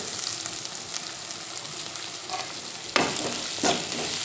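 Onion frying in oil with green chillies and curry leaves for Bombay sagu: a constant close sizzle, then a sharper scrape and a louder burst of crackling near the end as the pan is stirred.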